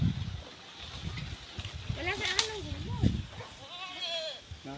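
A goat bleats several times, wavering cries at moderate distance, with people talking nearby and wind in the background on an outing in Mabini, Batangas.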